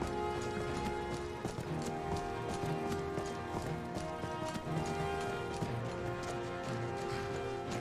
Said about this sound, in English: got off the horse, but the horse took off.